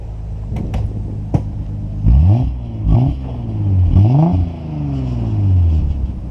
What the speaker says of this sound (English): get out and stand behind the car and I'll rev it. So you can hear the exhaust.